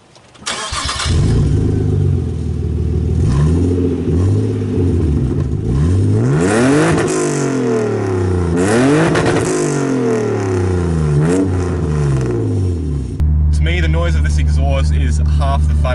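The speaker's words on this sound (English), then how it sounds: "My personal favourite thing about this Skyline is the noise that it makes." A Nissan R34 Skyline engine revs hard and loud, rising and falling through several sweeping blips with a deep, throaty note, then settling to a steady idle near the end.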